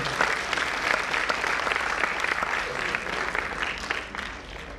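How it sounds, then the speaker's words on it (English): Loud, sustained audience applause at a concert, a dense wash of many hands clapping that holds steady for several seconds before easing slightly near the end. "So give her a round of applause at least for this time."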